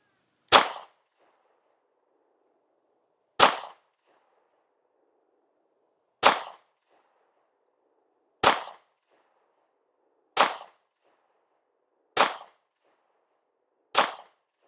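Seven sharp, loud pistol shots from a Sig Sauer P365, fired one at a time with irregular pauses of about two to three seconds, each a hard crack with a brief ringing tail outdoors.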